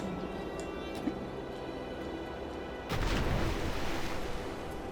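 A grenade explosion in the video game The Vanishing of Ethan Carter, a single broad rumbling burst erupting partway through over a steady low game ambience and continuing to roar.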